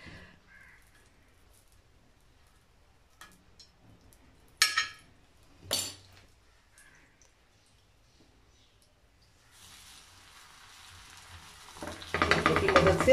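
Desi ghee hitting a hot tawa with paratha: two sharp sizzles in a quiet kitchen, then a rising hiss of frying that grows loud and steady toward the end.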